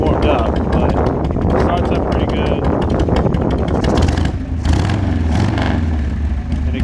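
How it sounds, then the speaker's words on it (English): A warmed-up Harley-Davidson Sportster idles with a low, steady rumble under loud talking and some wind buffeting on the microphone. "It's obviously warmed up, but it starts up pretty good."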